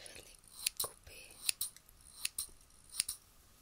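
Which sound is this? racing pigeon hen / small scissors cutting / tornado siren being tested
small scissors cutting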